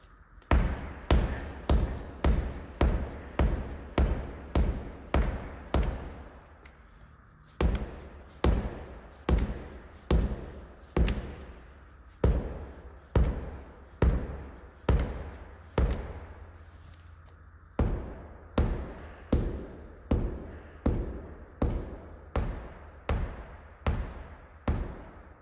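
Medicine ball thumps down in quick, even taps and pushes, three runs of sharp, close thuds broken by short pauses, with no voices over them.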